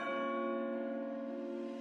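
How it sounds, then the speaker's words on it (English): A single ringing bell in a Thomas the Tank Engine Christmas story, one sustained rich tone with shimmering overtones that slowly fades, heard clearly on its own without speech. "If I follow the sound of the bell, I will find my way home."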